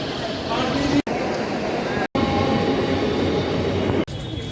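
A suburban train leaving Sealdah station toward Khardah in Kolkata rolls with a continuous loud rumble and rattle, broken by a few abrupt cuts, with indistinct voices mixed in.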